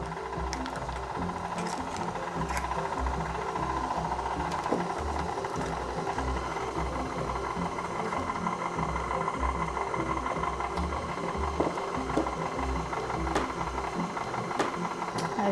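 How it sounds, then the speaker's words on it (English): A stand mixer beats cake batter with eggs for a ganache cake, giving a steady close mechanical whirr and rhythmic clatter of the beater throughout. "when you're using a stand mixer"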